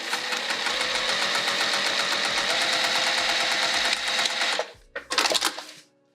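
A sewing machine runs fast and steady, top stitching a fold on a Fogerty bag, with a loud continuous whirring rattle for several seconds that stops and is followed by a brief clatter.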